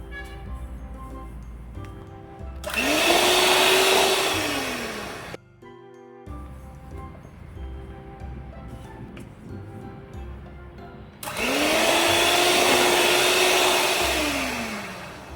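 An electric mixer whirs loudly through plum cake batter as egg whites are added, running in two long bursts with a short pause between, its pitch sliding up as it starts and down as it stops.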